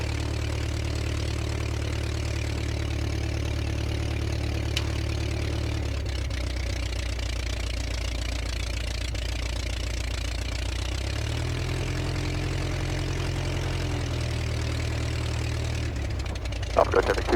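Light aircraft piston engine idling and running up before flight at the end of runway 30 at Poplar Grove during a condition inspection, a steady droning hum that shifts pitch as power changes, with faint talk over it.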